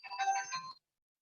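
A phone goes off during a cosmology lecture with a short bright electronic ringtone melody lasting under a second, then cuts to silence.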